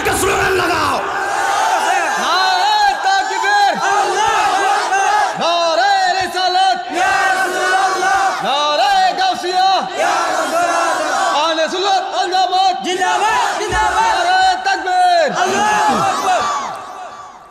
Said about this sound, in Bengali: দুই হাত ধরে একটা স্লোগান লাগাও